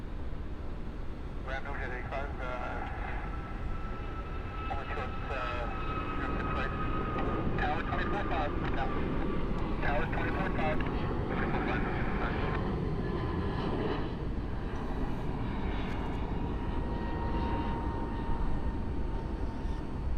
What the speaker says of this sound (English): Aer Lingus, heading back to Dublin.